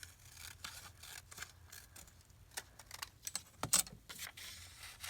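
Scissors cut paper for a junk journal insert, a run of soft, close snips and crisp clicks at an uneven pace against quiet room hiss.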